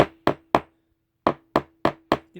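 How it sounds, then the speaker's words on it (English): Sharp hammer taps driving a staple into the side of a piano bench, three quick blows, a pause, then five more in a steady rhythm, close and loud with a faint hum beneath. "sometimes that doesn't go in all the way, and I use a hammer a little bit on the side"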